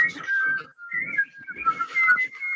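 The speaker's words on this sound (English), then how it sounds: "You hear those whistles?" Several people whistle together in a group exercise session, a bright wavering melody with short breaks, close and clear with no talk over it.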